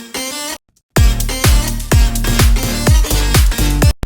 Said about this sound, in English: So here is a vocal chop that's not currently in time with this track,